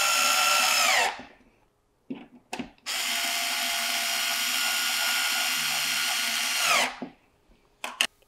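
A power drill or driver tightens screws on a SNOO bassinet in two long, loud whirring runs of several seconds each, separated by brief clicks and handling noise, with no talk.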